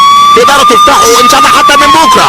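A police car siren sounds as a steady high wailing tone throughout, running under a man's speech in Arabic.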